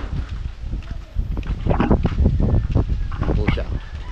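Strong wind gusts buffet the microphone outdoors in stormy weather, with rough low-frequency roaring bursts that rise and fall in surges, louder toward the middle of the clip.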